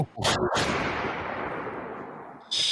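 A voice imitates a gunshot with a muffled, breathy burst that sweeps into a long hissing whoosh fading over a couple of seconds, ending with a short noisy blast.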